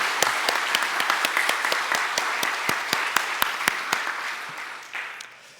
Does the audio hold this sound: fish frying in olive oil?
no